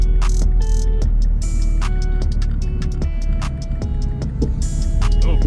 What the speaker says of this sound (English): Whenever I hit some like potholes with the back tires, I hear it clunk around a lot.